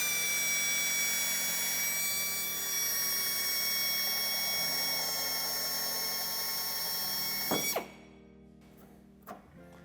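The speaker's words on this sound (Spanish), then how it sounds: "haciendo presión sobre el taladro cortaremos este trozo" A power drill bores and cuts through the plastic rear bumper of a 2019 Volvo V60, a loud steady whine with high tonal harmonics that runs for most of the stretch before stopping abruptly, followed by a couple of sharp knocks.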